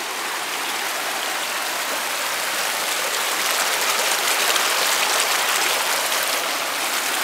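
Creek water flowing, a steady dense rushing and splashing that stays close and continuous throughout, with no voices.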